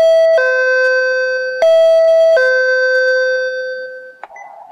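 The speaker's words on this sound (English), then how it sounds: "The home's also equipped with an iPhone video doorbell," A home video doorbell's multi-tone electronic chime rings clearly, several bright notes stepping up and down in sequence, then a brief faint rustle at the end.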